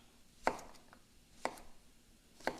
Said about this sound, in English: and then rough chop